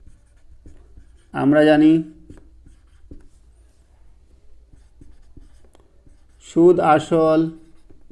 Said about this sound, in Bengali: এবার লিখব